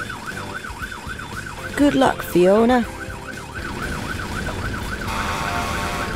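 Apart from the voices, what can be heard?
cartoon fire engine siren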